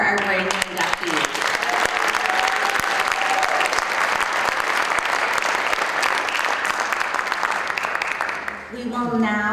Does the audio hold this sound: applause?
yes